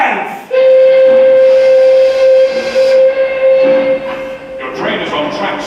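A loud, sustained train steam whistle from a stage production of the musical Assassins blows one long steady note for several seconds, then cuts off as voices and stage noise take over.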